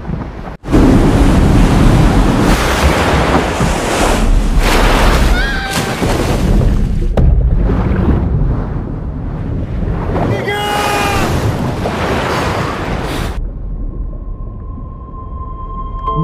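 Loud, roaring surf crashes continuously with heavy wind buffeting the microphone, the rumble swelling and easing in waves.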